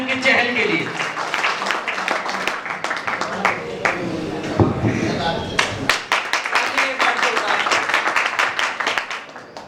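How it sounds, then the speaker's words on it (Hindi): Audience applause and clapping for a poet at a Hindi award ceremony, a dense continuous patter sustained for nearly ten seconds, with occasional voices mixed in. "एक बार जोरदार तालियां भाई अंकित चहल के लिए।"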